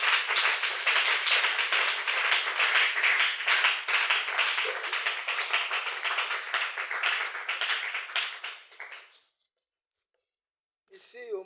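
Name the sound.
congregation applauding in church hall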